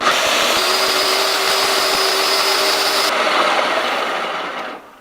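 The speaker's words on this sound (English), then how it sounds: "Then I'm gonna blend this all together, make it into a sauce" A countertop blender whirring loudly and continuously up close as it purees pizza sauce ingredients with olive oil, a high whine running through the motor roar before it winds down and stops at the end.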